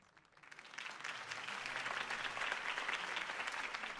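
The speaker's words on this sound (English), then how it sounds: "If only Mr. Wayne, my campaign's largest backer, could have heard that applause" Crowd applause at a political campaign speech in the Batman Telltale Series video game, clapping that swells up from quiet within the first second into sustained, fairly loud applause.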